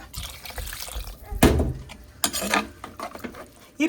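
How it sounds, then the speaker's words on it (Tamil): Water poured into a cooking pot while making a Tamil kodal kuzhambu curry, heard as intermittent splashing and gurgling bursts near the microphone, with a louder gush midway and no talk. "ஸோ இப்போ வந்து தண்ணி ஊற்றிக்கிறேன்"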